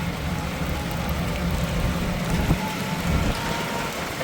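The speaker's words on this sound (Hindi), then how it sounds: "अब बहुत तेज़ बारिश हो रही है" Heavy rain pours steadily in Vrindavan, a dense, even roar of drops hitting surfaces that stays loud and constant throughout, with no voices.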